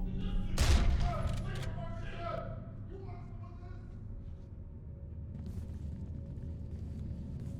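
Gunfire in the horror game Condemned: Criminal Origins: a loud, brief burst of shots near the start, then a low, steady rumble that fades. Someone talks over the noise.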